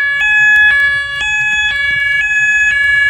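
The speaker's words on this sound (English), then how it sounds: "this sounds like a UK fire engine" A fire alarm in the Roblox video game blares a loud, repeating two-tone electronic wail much like a UK fire engine siren, cycling steadily about every half second with no talk over it.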